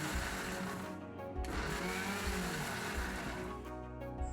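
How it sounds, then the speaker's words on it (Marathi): A mixer grinder runs in short pulses, switched on and off, grinding dried chili into flakes with a loud whirring roar that briefly dips between bursts. "1-2 सेकंदाकरता मिक्सर ऑन आणि ऑफ असं 3 वेळेस आपल्याला करून घ्यायचं आहे"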